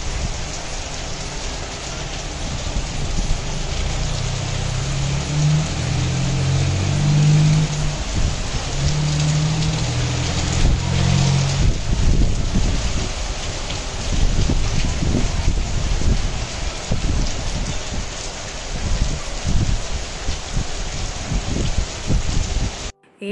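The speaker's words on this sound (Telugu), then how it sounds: "ఇంతలో ఇంత పెద్ద వర్షం పడిపోయింది" Heavy sudden rain pours down steadily and loudly for the whole stretch, a dense continuous hiss with low rumbling underneath, no voices.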